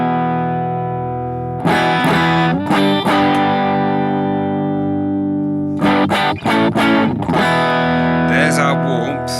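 Electric guitar played through a BOSS GT-1000 modeller with EQ low end boosted, giving warm sustained chords with sharp strummed attacks in two bursts, ringing tones between, loud and close with no talking.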